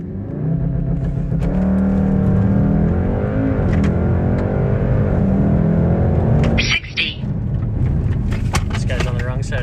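A 2018 Volkswagen Golf R with a Cobb Stage tune and DSG gearbox launching hard, loud engine roar climbing steadily in pitch, then a sharp gear-shift break and the engine pulling again, close inside the car.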